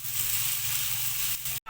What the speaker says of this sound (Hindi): अब हम इसमें अपने टमाटर ऐड करेंगे। इसको हम 2 से 3 मिनट तक हम फ्राई करेंगे